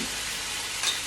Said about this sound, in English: Give it a bit of saute.